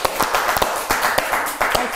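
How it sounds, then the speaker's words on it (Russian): Scattered clapping from a small audience, a burst of sharp, uneven claps lasting a couple of seconds with no voices. "Аплодисмент."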